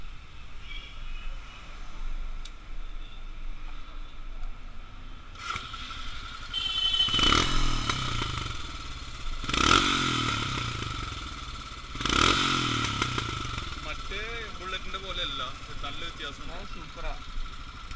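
A Royal Enfield Himalayan motorcycle engine idles nearby, then revs hard three times in separate spaced bursts, with muffled voices in the background.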